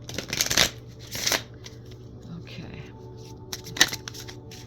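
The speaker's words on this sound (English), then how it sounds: "Let's just give it a shuffle." Two quick bursts of cards riffling together near the start, then a brief word spoken and another short shuffle near the end.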